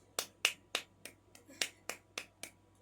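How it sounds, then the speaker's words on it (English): Eight sharp stiff-armed hand claps done as a self-stimulating habit, evenly spaced in a quick steady rhythm, close and crisp with no talking. "it's like this stiff arm clap"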